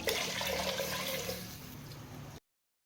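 Coconut milk pours steadily into a cooking pot, a continuous liquid splashing and gurgling that stays fairly loud and close for about two seconds before stopping abruptly.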